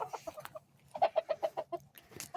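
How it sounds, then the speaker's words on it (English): Several chickens cluck in short, rhythmic bursts close by inside a pallet-built backyard coop, with a brief louder squawk near the end. "Here's all the chickens."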